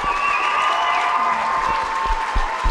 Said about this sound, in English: The senior girls get a big hand here from the crowd